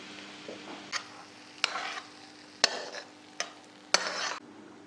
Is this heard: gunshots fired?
no